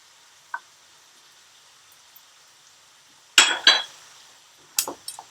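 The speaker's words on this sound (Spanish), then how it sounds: "E ir removiendo, lógicamente, para que no se nos pegue también el arroz" Rice stirred in a small hot pan, a few short scraping clinks of utensil against metal, sparse and fairly close, with quiet gaps between them and no talking.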